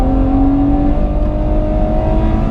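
A Ferrari 812 Superfast on a race track pulling out of a corner in second gear at three-quarter throttle, a loud, close, steady engine drone with a sustained tonal whine.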